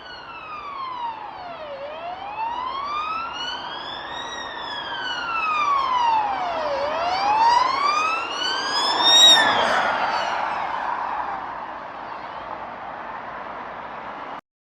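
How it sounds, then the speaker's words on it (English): An ambulance siren wails in repeated rising and falling sweeps, loud and steady, then drops in pitch near the end as the vehicle passes and moves away. "let's listen to this ambulance sound carefully."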